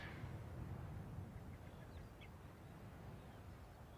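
A duck quacks faintly in an outdoor rural Irish setting, a few short calls rising briefly over a steady low background rumble.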